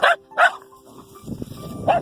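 Dachshunds on a farm bark at horses: three sharp close barks, spaced out, with quieter rustling and shuffling between them.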